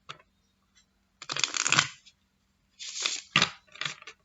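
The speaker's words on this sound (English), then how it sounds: "We'll give it a shuffle." Tarot deck being shuffled by hand in short riffling bursts, close and crisp, with brief pauses between shuffles and no talking.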